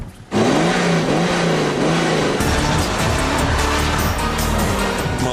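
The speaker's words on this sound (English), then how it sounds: "my foot's welded to the floor here, and as you can see, the petrol car has roared off to an early lead" A petrol car and a BMW 535d launch hard from a standstill, engines bursting into a loud, rising roar with climbing gear-by-gear revs and a second engine note joining partway through.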